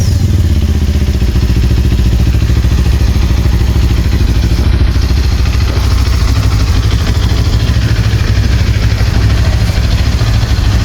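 A QJ Motor SRT 450 RX motorcycle with stock exhaust idles steadily with a deep, throaty rumble and slight clatter, loud and close, running continuously with no talking.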